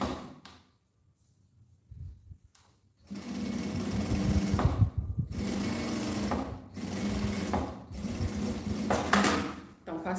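Sewing machine stitching a finishing seam on a cube-shaped toiletry bag, a steady mechanical whir running continuously for about seven seconds after a brief quiet start, close and fairly loud.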